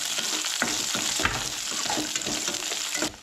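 Onion and green chillies frying in a pan for a Goan chana masala, a continuous hiss of sizzling oil with repeated stirring scrapes and knocks of a spoon against the pan throughout.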